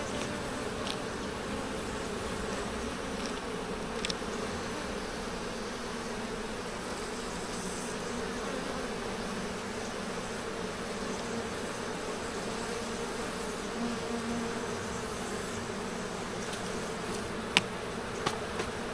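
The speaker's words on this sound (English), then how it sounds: "Oh, bees, bees, bees, bees, everywhere." Honeybees buzz densely and continuously all around during a July beehive inspection, a steady close drone with occasional louder passes of single bees near the ear.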